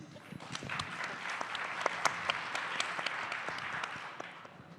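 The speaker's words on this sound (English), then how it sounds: "Can we have a round of applause for Angeline, please?" A conference audience at a Southeast Asia summit breaks into steady, moderately loud applause, many hands clapping continuously for several seconds.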